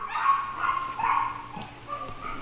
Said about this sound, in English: Can we quiet the dogs down?